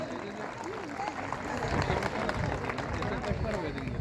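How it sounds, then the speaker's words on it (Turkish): Wedding guests clap at a civil marriage ceremony held at a municipal office, a moderate, fairly distant patter of applause mixed with crowd murmur while a voice talks over it. "Efendim kuvvetli bir alkış gelsin."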